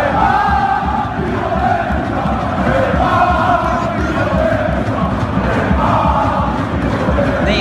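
PSG football supporters chanting at Neymar in a stadium, a loud, rhythmic massed chorus of voices with a rumbling crowd bed, played back continuously through the span.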